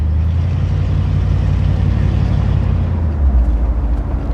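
A 1965 Ford Thunderbird's exhaust rumbles deep and smooth at idle, a steady close low drone that swells slightly near the end.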